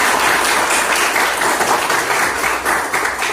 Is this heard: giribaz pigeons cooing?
no